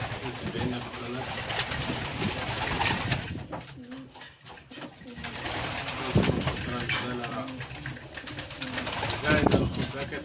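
Sebastopol pigeons coo in low, repeated rolling calls, close and fairly loud, with a few short gaps between bouts and a steady background hum throughout.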